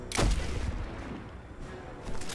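A Whisper of the Worm sniper rifle fires one sharp, heavy shot in Destiny 2, a loud crack with a booming low tail that fades into a lingering rumble.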